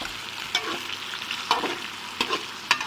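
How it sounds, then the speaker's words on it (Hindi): Chicken pieces fry with golden onions over low heat for chicken tikka macaroni, giving a steady soft sizzle. Sharp clinks of a spoon stirring against the pan cut through it every second or so. "मैं इसे हल्की आंच के ऊपर फ्राई करूँगा जब तक चिकन अच्छे से फ्राई नहीं हो जाता।"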